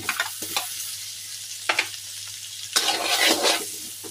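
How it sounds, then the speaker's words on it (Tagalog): Onion drops into melting butter in a pan and starts to sizzle, with a few stirring scrapes and a louder burst of frying toward the end, close and moderately quiet, no talk. "Habang nagpapatunaw tayo ng butter, lagay na natin yung onion natin."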